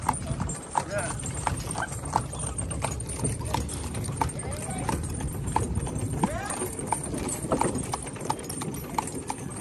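Hooves of a male horse pulling a cart along a countryside road in Guyana, a loud, steady clip-clop in a regular trotting rhythm, close by, with voices talking over it.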